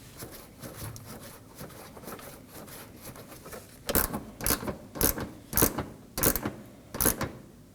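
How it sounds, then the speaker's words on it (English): A 10mm corner bolt goes back in on a 2015-2023 Nissan Maxima with a hand ratchet: faint fiddling at first, then a close, quick series of about seven sharp clicking ratchet strokes in even rhythm. "And we can reinstall our corner 10mm bolt."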